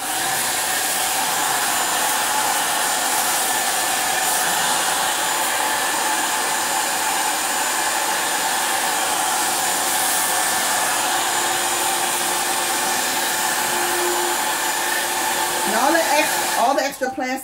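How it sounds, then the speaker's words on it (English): A hair dryer blows with a steady, loud whir that holds constant throughout, ending with a short shift in pitch as it winds down. "Take the blow dryer."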